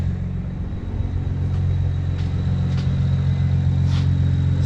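A built-motor BMW 335i with a single Precision 6466 turbo and Precision wastegate idles with a loud, steady low rumble that swells slightly and holds, with no one speaking.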